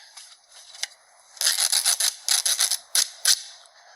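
A series of short, bright scraping strokes in quick bursts, some grouped in rapid runs, close and moderately loud against quiet.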